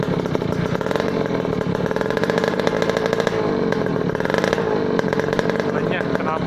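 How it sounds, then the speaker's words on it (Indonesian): Kawasaki Ninja RR two-stroke motorcycle with a DBS aftermarket exhaust, running steadily and loud and close, a continuous buzzing engine tone throughout with voices talking over it. "knalpotnya suaranya kenyah"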